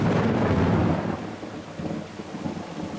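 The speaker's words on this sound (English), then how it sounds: "it's raining and thundering, as you can hear." A deep roll of thunder rumbles loudly and fades over a few seconds as rain falls steadily in the background in a jungle.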